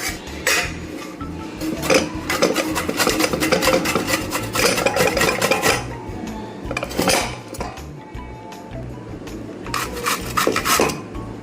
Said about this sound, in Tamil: அந்த சக்கரவள்ளி கிழங்கை அதை இந்த மாதிரி செத்துக்கட்டையில் நம்ம நல்லா துருவி எடுத்துக்கலாம்.